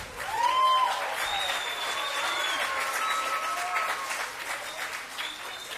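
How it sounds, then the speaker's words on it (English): A choir concert audience gives a round of applause, a full, sustained sheet of clapping from a large crowd that swells early and then holds evenly, with faint cheers and whistles threaded through. "Let's give those guys one more round of applause."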